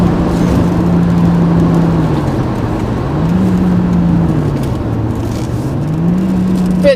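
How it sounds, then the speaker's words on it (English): An Audi coupe's engine drones steadily, its pitch rising and falling gently as it drives along at speed, with no voices. "hopefully you've got a glimpse of what the car sounds like"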